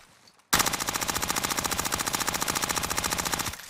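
An MP5 submachine gun fires a long continuous automatic burst in Call of Duty Warzone, loud and rapid with an even rhythm lasting about three seconds after a brief quiet start.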